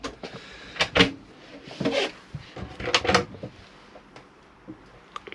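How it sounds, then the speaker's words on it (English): A cutlery drawer in a motorhome kitchen sliding open and shut, several short close thuds and rolling slides with rattles in between, in a quiet interior with no talk. "Cutlery drawer."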